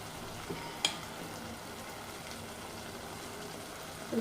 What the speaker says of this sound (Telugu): ఆ రసాన్ని చింతపండు కలుపుకొని మనం రసాన్ని ఇందులోకి యాడ్ చేసేసుకుందాం